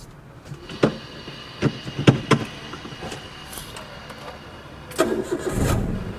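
A car engine cranking and starting up right after a new battery has been installed, with several short clicks and cranks before it catches and settles into a low running rumble near the end.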